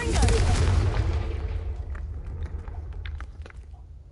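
A Confringo fire spell explodes in Hogwarts Legacy: one loud, deep boom that bursts at once and rolls away into a long fading rumble, with faint debris clatter near the end.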